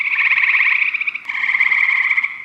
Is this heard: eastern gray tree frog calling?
yes